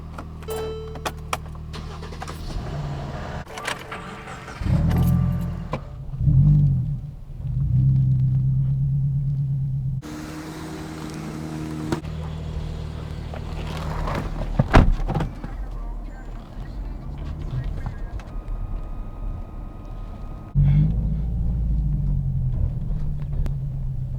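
Cars being moved around a driveway before oil changes, a low idling engine rumble that revs and swells at intervals, with a door thump and rattles in between.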